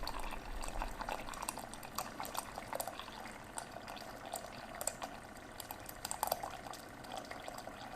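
A Keurig K55 coffee maker brews hot water, a steady watery hiss and gurgle with small bubbling pops throughout, fairly faint and close, with no one talking.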